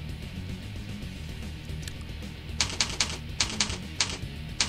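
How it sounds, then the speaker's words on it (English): Computer keyboard typing while entering login details for an FTP connection: a burst of crisp, close key clicks in uneven clusters, loud over a steady background hum, with no talking. "Once you've typed that in"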